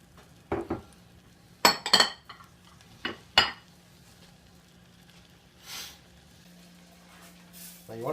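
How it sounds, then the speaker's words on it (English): A metal utensil stirs butter, garlic and onion in a pan for Alfredo sauce, giving a few sharp clinks and scrapes in irregular bursts, then quieter shuffling over a low steady hum. "You got to stir it and stir it and stir it."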